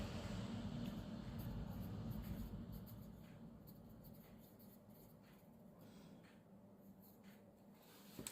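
A pen scratches briefly on a paper note during a coffee shop game session, a soft close scribbling over faint low room noise.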